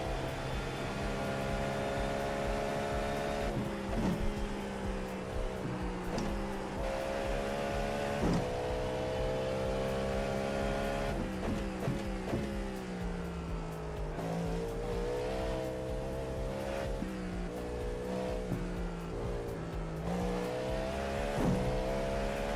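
A car engine pulls hard under aggressive throttle, its steady roar climbing in pitch through repeated gear changes with brief dips between them, loud and unbroken throughout, with faint tire noise at times.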